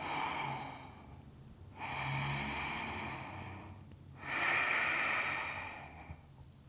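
Deep, slow breaths during a vinyasa yoga flow held in warrior two, three long airy exhalations heard up close, each separated by a short quiet pause.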